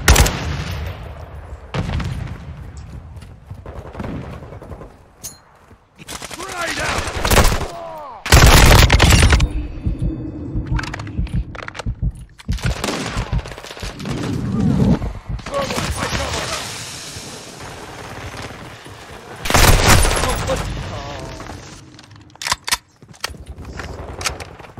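Heavy gunfire in a Call of Duty Modern Warfare 2 PC multiplayer match, loud bursts and sniper rifle shots cracking repeatedly over roughly twenty-five seconds, with a few louder blasts and a voice talking in places.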